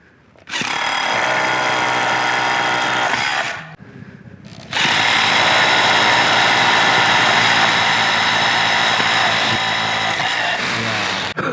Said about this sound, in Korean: 그래서 이제 36V로도 바로 한번 뚫어 볼게요.